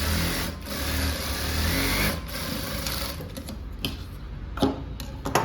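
A sewing machine runs steadily while stitching blouse fabric, its motor whirring continuously with a few short pauses and clicks toward the end, close and fairly loud.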